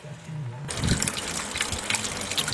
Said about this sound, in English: let me get the water draining and the oil changed